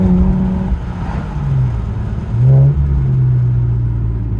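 A 2018 Infiniti Q50 engine with aftermarket intakes rumbles steadily with a loud droning exhaust, briefly revving higher midway before settling back to a low idle drone.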